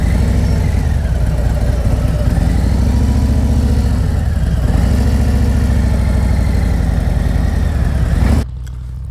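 A motorcycle engine runs steadily at idle-to-low revs close by during a student's slow U-turn practice, a continuous mid-low drone with slight pitch swells as the throttle shifts, cutting off abruptly near the end.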